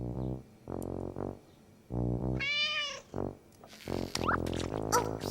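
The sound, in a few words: cat meowing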